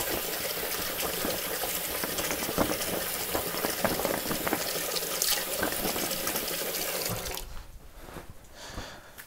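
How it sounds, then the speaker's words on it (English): Cold water runs steadily from a tap to wet sheets of nori seaweed in a kitchen, close and fairly loud, then cuts off near the end. "A little bit of cold water."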